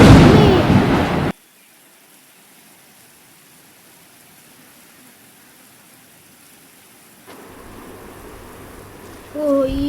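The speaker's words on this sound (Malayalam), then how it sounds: "അവിടെ എന്തെങ്കിലും വല്ല വെള്ളത്തിലോട്ട് ഇടി വീണതാണോ?" Thunder and rain in the video game GTA 5: a loud, broad rumbling burst opens, then drops to near silence, before a soft rain-like hiss returns and a voice briefly enters at the very end.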